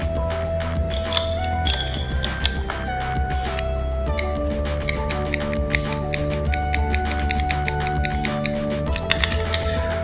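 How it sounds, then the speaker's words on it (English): A glass rod clinks and taps against the inside of a glass test tube while stirring Lugol solution into rice starch, with quick irregular light knocks and scrapes running throughout over soft background music. "stir using a different glass rod"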